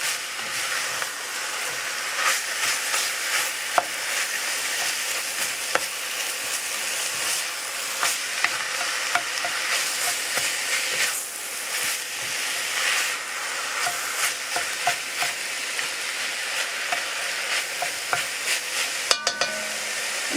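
Ground beef frying in a pan for baked ziti gives off a continuous dense sizzle and hiss, with frequent scraping stirs and occasional sharp clicks, close and steady throughout with no voices.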